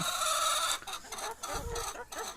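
Laying hens clucking on a Thai egg farm, a dense chorus of close, overlapping clucks and squawks filling the short stretch, with no talk.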